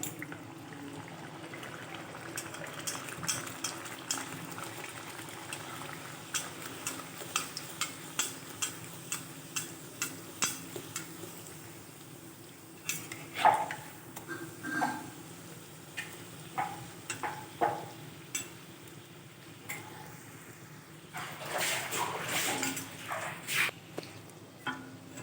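Luchi frying in hot oil in a kadai, a steady low sizzle running throughout with scattered crackles and light clinks as the puffed breads are turned and stirred, close and moderately quiet.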